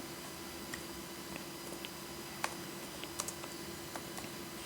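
Soft, scattered keystrokes on a computer keyboard while Kotlin code is typed. The clicks are faint and irregular over a steady background hum, with no talking.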